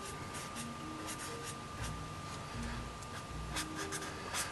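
A pencil sketches a dynamic comic figure pose by hand on paper, with quiet, close, scratchy strokes in short back-and-forth bursts over a low background hiss.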